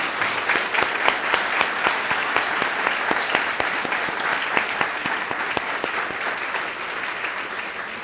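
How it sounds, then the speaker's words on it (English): An indoor audience at a 2022 town address gives sustained applause for first responders and healthcare workers, with dense, even clapping that continues at steady loudness through the whole stretch. "Let's give them a round of applause for their dedication during the past 2 years."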